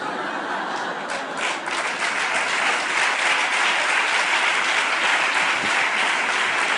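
Sustained applause from an audience at a lecture defending the Andalusian dialect, dense and steady, swelling slightly louder after the first couple of seconds, with faint chuckles mixed into the crowd noise.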